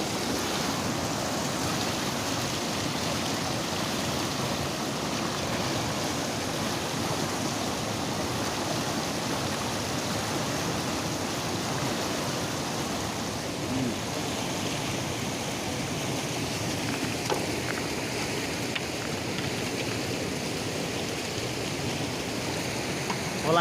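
The Kali Gandaki river in Nepal flows in a steady, loud, broadband rush with no breaks, and nobody speaks over the constant churn.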